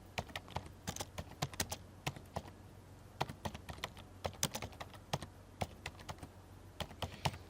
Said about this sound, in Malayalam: നമുക്കിവിടെ വാട്ട് ഈസ് ഡിജിറ്റൽ മാർക്കറ്റിംഗ് എന്ന് ടൈപ്പ് ചെയ്ത് നോക്കാം